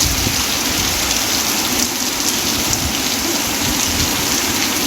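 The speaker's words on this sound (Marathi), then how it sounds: "खूप जोरदार असा पाऊस आला" Heavy monsoon rain pours steadily with gusting wind, water running off a roof gutter beside a shed, a dense, even roar that never lets up and has no voices over it.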